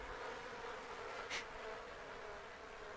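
Steady buzzing of a swarm of enraged bees from The Sims 4, a continuous faint drone with one brief louder pass, and no talking.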